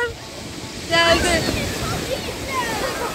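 Sea waves wash up onto a sandy beach with a steady broad surf wash and a swell in the middle, while voices talk over it.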